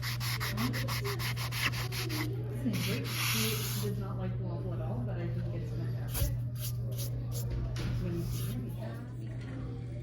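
Steady rhythmic sanding, a hand-held sanding sponge scrubbing back and forth against a surface, with a constant low hum underneath.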